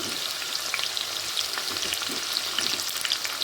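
Onion pieces and green chillies fry in oil in a pan for mixed fried rice, giving a steady, close hiss of sizzling with small scattered pops and light stirring scrapes throughout, no voices.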